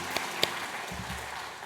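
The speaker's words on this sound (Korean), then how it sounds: "우리 함께 축복의 박수 부탁합니다." A congregation claps briefly in a blessing during a Sunday church service, a short soft burst of applause with a couple of sharper claps, followed by a low hum.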